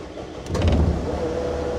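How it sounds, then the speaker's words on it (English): A 2023 Caterpillar 289D compact track loader engine turns over and catches, then settles into a loud, steady, close diesel rumble with no talking. "Beginning engine starting sequence now."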